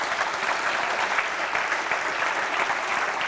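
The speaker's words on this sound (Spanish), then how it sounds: "Dale ese aplauso al Señor." A church congregation claps steadily during a Spanish-language sermon, with the dense, even applause holding at a moderate level throughout and no voices rising above it.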